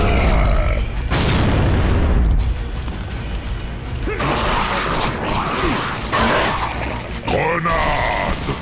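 A grenade explodes during a Gears of War 2 firefight, a heavy low boom bursting early and rumbling off, followed by clattering combat noise and grunting character voices.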